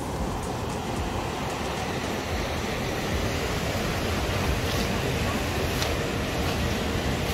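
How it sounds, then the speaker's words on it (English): Ocean waves and surf with a strong current roll steadily onto a beach busy with surfers, a dense, even wash of noise heard from some distance and holding at a constant level throughout. "Waves current is pretty strong"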